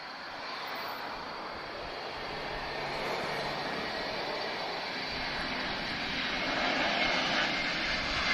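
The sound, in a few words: TAP Airbus A321 landing at Lisbon Airport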